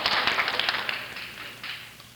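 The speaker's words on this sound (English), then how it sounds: "You can quit applauding." A studio audience applauds at a talent-scout broadcast, a dense patter of many clapping hands that starts loud and gradually thins and fades over about two seconds.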